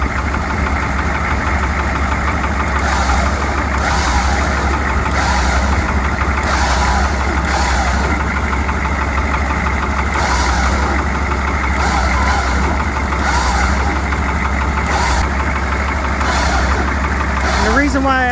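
A military CUCV M1028 pickup truck engine idles steadily and loudly for the whole stretch, a low continuous rumble with a faint knocking texture and no change in pace.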